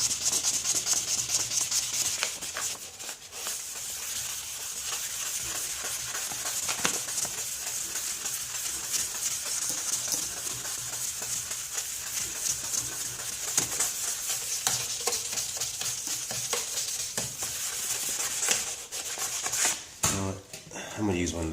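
Continuous close wet sandpaper scrubbing on a cloudy car headlight, steady back-and-forth rasping under firm pressure, with a short clattering shuffle near the end.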